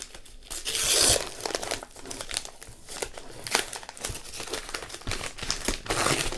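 Wrapping paper on a book is torn and crinkled open, giving a steady, close crackle of ripping and crumpling that goes on throughout.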